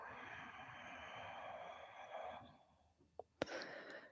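A slow, soft exhale during a yin yoga session: a long, breathy sigh that fades out, followed by a couple of brief breath sounds near the mic.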